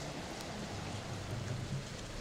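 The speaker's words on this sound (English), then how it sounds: "You hear the howling wind, rain, the lightning every so often, which pierces the sky." Stormy rain and wind from a tabletop fantasy game scene form a dense, steady wash of noise with a low rumble underneath, unbroken across the short stretch.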